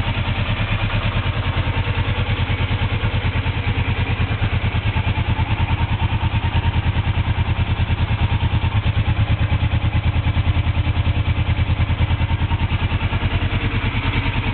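A 1983 Suzuki GS450L motorcycle engine idles steadily with a rapid, even putter and mechanical clatter, close and constant throughout without revving.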